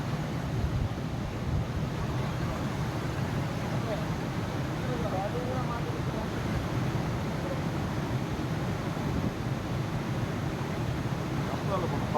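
Floodwater roars past at a dam site during gate repair work, a steady, dense rushing wash that stays constant throughout, heavy and unbroken, with a faint voice under it.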